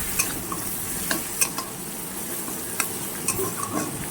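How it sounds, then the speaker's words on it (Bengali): Spice paste for pangas fish curry frying over raised gas heat, a constant close sizzle broken by periodic scrapes and taps of the stirring spoon. "এবার আমি এটাকে ভালো করে একটু নেড়ে নেব। গ্যাসটাকে বাড়িয়ে দিয়েছি"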